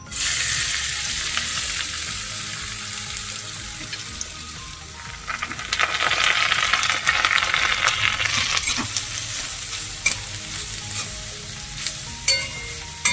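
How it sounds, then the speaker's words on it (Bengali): Grated carrot is stirred through a frying pan while making gajar halwa, a steady close sizzle with scraping stir strokes that grows louder and busier midway, with no talk. "এটা হালকা করে নেড়ে নিয়ে এর উপরে আমি এই কেটে রাখা গাজরটা আমি আস্তে আস্তে করে এতে দিয়ে দেবো।"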